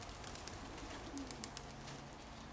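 A racing pigeon coos faintly in the background, low soft calls under a quiet, hissy ambience with a few light chirps.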